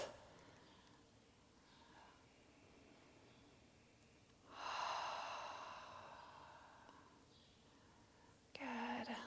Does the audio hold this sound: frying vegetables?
no